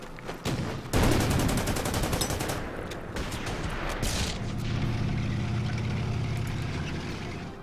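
Anti-tank gun fire and battlefield explosions from the Order of Battle war game as a Valentine tank is targeted: a sharp loud blast followed by a burst of rapid crackling shots, another heavy boom, then a low rumbling engine-like drone.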